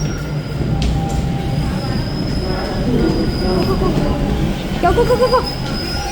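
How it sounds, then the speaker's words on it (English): A TTC subway train pulls into Islington station in Toronto with a loud, steady rumble and rising wheel squeal that fills the platform, while voices call out over the din. "Oh, the train's here."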